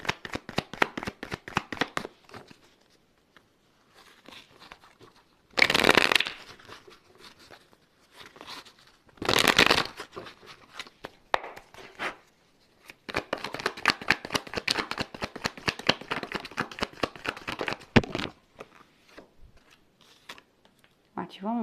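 Deck of tarot cards being shuffled by hand, close rapid riffles and flutters in bursts with a couple of louder swishes and short pauses, with speech in between.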